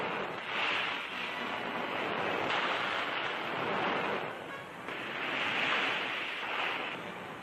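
Ocean surf breaking along an Australian beach, faint and distant, with broad washes of waves swelling and receding in slow surges, no voices.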